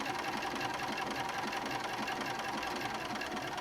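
A sewing machine runs steadily, sewing a blanket stitch around appliqué on a baby quilt, its even, moderate-speed mechanical whir continuous and close with no talking.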